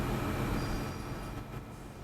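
Class 150 and Class 170 trains running alongside on the WCML between Birmingham and Crewe in Train Sim World 6, a faint steady rumble of rolling stock with no talk.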